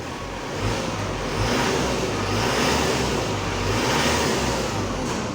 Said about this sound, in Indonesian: Nah, kita dengarkan mobilnya saja itu sudah raungannya ya, keren ya engine-nya.